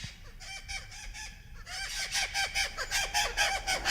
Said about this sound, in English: And here come the parrots.